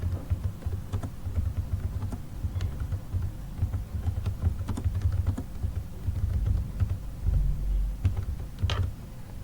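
Keys tapped on a computer keyboard while naming a Photoshop workspace, an irregular run of close, light clicks continuing at a steady pace.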